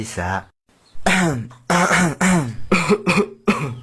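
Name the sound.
cough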